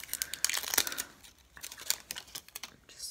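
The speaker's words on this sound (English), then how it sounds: "I'm just gonna rip it open." Drugstore makeup packaging being ripped open close up, with crinkly tearing and crumpling in quick irregular bursts that fade into softer rustles.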